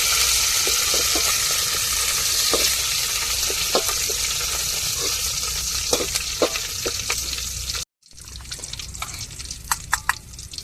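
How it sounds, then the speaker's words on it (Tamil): Curry leaves sizzling and crackling in hot oil for rasam, a dense close frying hiss with scattered pops, then a brief cut followed by quieter sizzling, no talking. "இப்போ கருவேப்பிலை சேர்த்துக்கிடுவோம்."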